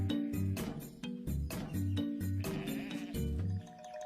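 Goat bleats in a comedy skit, repeated wavering calls in a steady rhythm over a background music bed, loud and close throughout.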